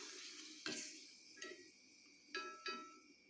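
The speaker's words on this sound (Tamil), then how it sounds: "இப்போ நம்ம போட்டு பொரிச்சு எடுத்துடலாங்க." Potato fryums hit hot oil and sizzle in sharp bursts, about four separate crackling surges over a quieter, steady frying hiss.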